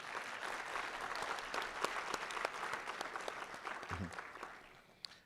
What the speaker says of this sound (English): May you please help me to give a big round of applause to our panelists.